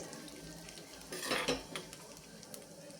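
Rice grains being sautéed in a pan for sweet Maharashtrian rice kheer, with a brief burst of scraping and sizzling in the middle and light clinks of a utensil against the pan around it.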